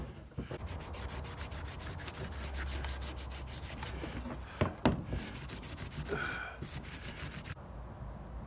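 Parts from a Caterpillar Cat 60 engine cylinder head are cleaned by rubbing, making repeated rhythmic scraping and scrubbing strokes close by, with a few sharper knocks midway and no talking.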